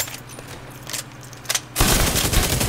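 Exotic weapon firing in The Division 2 video game, a rapid continuous burst that starts partway through after a few lighter clicks, loud and sustained to the end.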